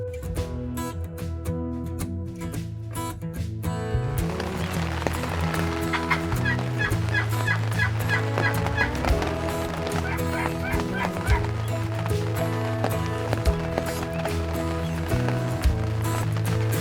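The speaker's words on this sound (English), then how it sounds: "We're in the middle of the turkeys" Wild turkeys gobble repeatedly at a distance in Oregon, bursts of rattling calls answering one another outdoors, fairly faint.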